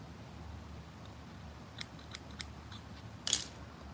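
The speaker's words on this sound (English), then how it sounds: "My scissors aren't dull." Scissors snipping fishing line while rigging rods, a few faint, quiet clicks followed by one sharper cut near the end, heard alone.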